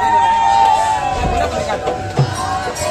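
A dense crowd murmurs and calls out at the Rath Yatra festival in Raipur, a steady outdoor hubbub with voices and a sustained tone over it, and someone talking through the noise.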